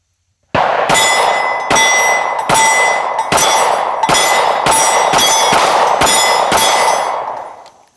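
A Sig Sauer P365 XL pistol fires Hornady 135 grain FlexLock duty rounds: about nine or ten loud, sharp shots at a steady, even pace, each with a bright ringing tail, and no talking.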